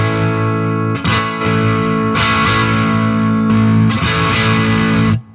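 An electric guitar plays through the high-gain channel of a Yamaha THR amp with sustain turned down, giving distorted, driven chords in several sustained bursts separated by brief breaks, loud and close.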